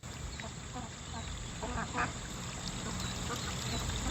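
Ducks quack on a farm pond during molting season, a few scattered calls rising faintly out of a steady outdoor hiss.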